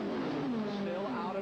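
Stock cars racing in a tight draft at the 1982 Busch Clash, a loud continuous engine roar with shifting whining tones, under a commentator's voice.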